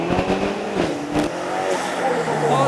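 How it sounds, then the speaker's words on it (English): A Ferrari California with a 3.9 twin-turbo V8 launches hard at a supercar weekend event, its engine revving loudly and rising in pitch as it pulls away nearby, with crowd noise and an announcer under it. "engaging launch control and off again"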